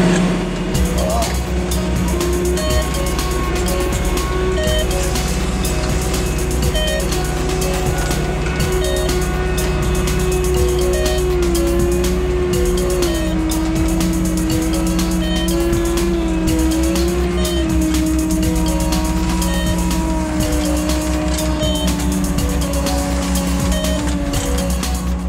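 A tractor pulling a 4-metre seed drill while sowing spring barley, its engine a loud steady drone with a wavering tone just above 200 Hz, running continuously under a man's speech.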